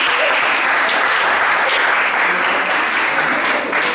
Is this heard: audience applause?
yes